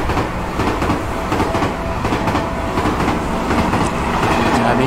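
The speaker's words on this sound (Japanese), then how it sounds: "あー電車近い。" A train passes close by at a railway crossing in a horror video game, its wheels clattering loudly and continuously over the rails throughout.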